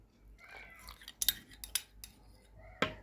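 A spoon scrapes and taps as butter is scooped and worked into a thick homemade imitation pistachio paste in a bowl, giving several sharp clinks and scrapes, one louder knock near the end, heard alone.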